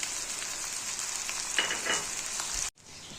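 Green chilies hit hot oil in a pan of frying chicken for white karahi, a steady close bright sizzle with crackling bursts that cuts off abruptly near the end, then resumes softer.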